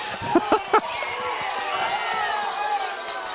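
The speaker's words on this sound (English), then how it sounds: "you can hear the crowd is getting ruckus" A rowdy crowd at a high school football game between Broome Centurion and Woodruff Wolverines, a steady roar of cheering and shouting after a few short sharp bangs, with a commentator talking over it.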